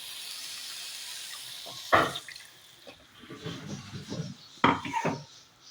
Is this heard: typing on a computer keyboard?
no